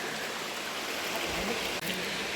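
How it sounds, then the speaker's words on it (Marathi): Devkund waterfall in winter gurgles and rushes over rocks in a steady, dense wash of water noise, close by and continuous throughout, with no voices. "मी इथे मस्त मागे खडकांवर बसून धबधब्याचं मस्त विहंगमय दृश्य बघत होतो आणि एकदम धबधब्याचा एकदम खळखळ असा आवाज येत आहे"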